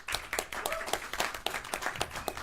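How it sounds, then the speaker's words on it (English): Applause for a panel at a Baltimore City Council retreat, a brief burst of scattered hand clapping from a modest audience, fairly quiet and somewhat distant. "give a huge, robust round of applause for our esteemed panel"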